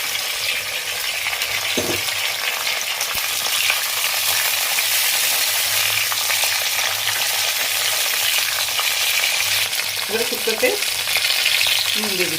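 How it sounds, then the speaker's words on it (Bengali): Drumsticks and pre-fried vegetables for Bengali shukto are tipped into a hot pan, giving a steady close sizzle throughout, with stirring scrapes and a few clattering knocks near the end. "সজনে ডাঁটাগুলো তুলে দিলাম বাকি সবজিগুলোও ঢেলে দিলাম যেগুলো ভেজে রেখেছিলাম"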